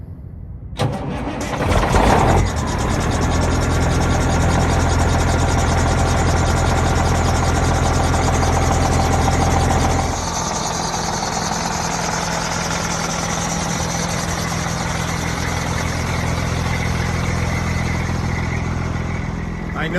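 A truck engine runs steadily with a failing belt tensioner, a loud sustained drone with harsh whining overtones near the microphone, starting up abruptly early on and continuing without pause.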